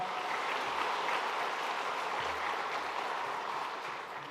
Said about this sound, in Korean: 우리 선교사님 자리에 잠깐 일어나실 때 우리 함께 박수로 환영하도록 하겠습니다